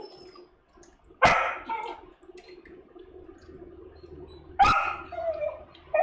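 A puppy gives two sharp, loud barks a few seconds apart in a quiet kitchen where soup with cream is being cooked, with faint background clatter between them.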